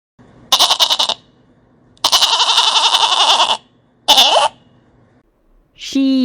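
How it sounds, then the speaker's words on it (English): A goat bleats three times up close, with loud, wavering cries separated by short silences, followed by the start of a brief voice at the end. "Goat,"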